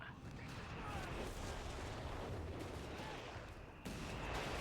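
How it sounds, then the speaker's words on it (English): Recce artillery barrage in Company of Heroes 3, a steady wash of distant rumbling shell impacts and crackling bursts filling the whole stretch, with a sharper jump in intensity near the end. "Recce artillery coming in."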